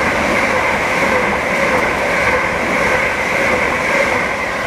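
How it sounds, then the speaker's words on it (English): A Class 387 electric train speeds through Stevenage station on the East Coast Main Line, a loud, even rush of wheels and air close by, with no talking. "Now passing through is a Class 387."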